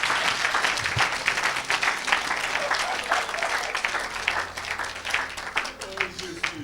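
Church congregation applauding, a continuous burst of clapping from many hands, with a voice shouting over it.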